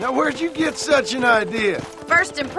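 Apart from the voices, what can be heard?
None of the usual background noises is heard.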